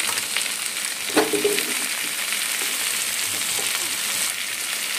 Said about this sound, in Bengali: এখন দিয়ে দিচ্ছি লতিগুলো।